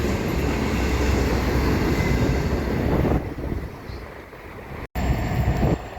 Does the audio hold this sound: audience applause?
no